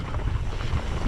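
A brief, steady burst of strong wind gusting over a Nevada mountain ridge during a mountain bike ride rushes loudly against the microphone throughout.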